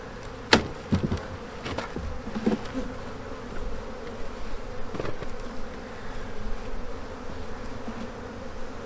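Honey bees buzz steadily from an opened beehive just out of winter, with a dense drone running throughout and a few sharp knocks and clunks of hive parts early on.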